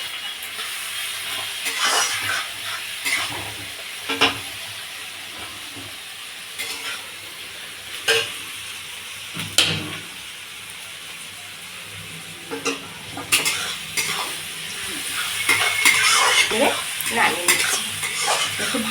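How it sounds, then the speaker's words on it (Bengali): Vegetable greens with a pinch of salt frying in a pan over a high gas flame, with steady close sizzling broken by repeated scraping and clattering stirs of a spatula throughout. "এই গাছটা আমি ভালো করে ভাজা করে নেব গ্যাসটা একটু জোরে দিয়ে দিলাম"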